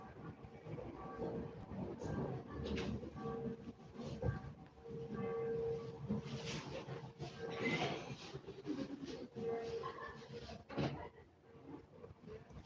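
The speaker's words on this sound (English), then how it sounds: "Woke up this morning and hopped the train up here." Train riding through Austria, a steady rolling rumble with faint rhythmic track clatter and brief tonal squeals, carrying on evenly close around the listener with no talk.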